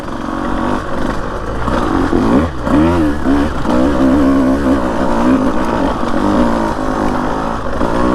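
Husqvarna TE150 dirt bike on rocky single track near Florence, Arizona, its engine loud and close, chugging and revving with rising and falling pitch as it climbs a loose rocky uphill.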